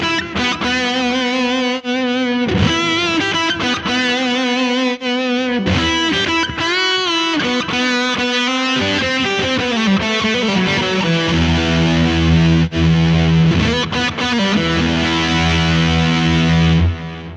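A distorted electric guitar runs through a Mooer GE100 multi-effects pedal, playing sustained chords and notes with delay and reverb tails that ring out. Short gaps and changes in tone appear as the settings switch.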